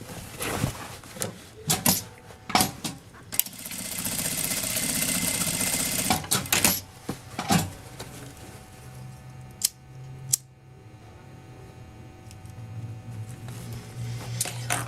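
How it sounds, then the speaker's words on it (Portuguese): Sewing machine stitching a bag strap, short whirring runs of stitching mixed with snips, clicks and handling noises, fairly close and quiet, followed by a steady low hum. "Centralizou, vou costurar e queimar a pontinha da alça."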